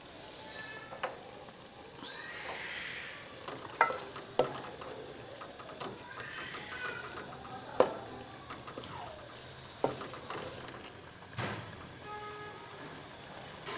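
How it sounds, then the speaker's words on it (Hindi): Beef mince frying with peas in oil in a pot, a low steady sizzle with occasional sharp clinks of a spoon stirring against the pan, no talking. "इसको हमने अच्छी तरह से भून लेना"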